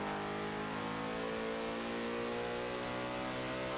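A 1970 Alfa Romeo Montreal's small-displacement V8 revs steadily in Forza Motorsport 7, a continuous rising engine note heard close and alone without talk.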